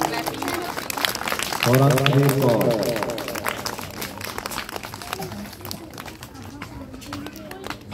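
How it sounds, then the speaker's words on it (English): A school audience applauds a nursery-class prize winner at a children's rhyme competition, a brief burst of clapping that swells and fades under an announcer's voice. "Clap loudly"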